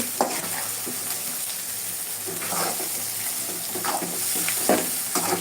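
Garlic pickle with mustard paste worked around a hot pan, with repeated scraping stir strokes over a constant soft sizzle, close and at moderate volume.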